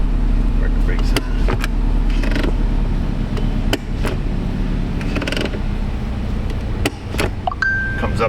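A car's parking brake lever ratchets up with a run of sharp clicks and creaks inside the cabin, set against a steady low engine idle, with a brief electric whine near the end.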